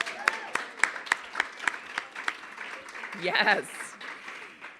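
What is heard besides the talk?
audience applause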